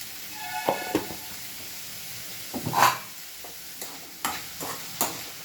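A spoon scrapes and stirs turmeric and salt into eggplant curry in a pan, with a steady faint sizzle underneath and several sharp scraping strokes and clacks at irregular intervals.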